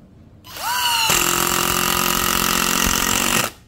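A cordless brushless impact driver (DCK KDPL208) sinks a 3-inch screw in one continuous burst, a loud hammering buzz that winds up and then holds steady for about two and a half seconds before cutting off.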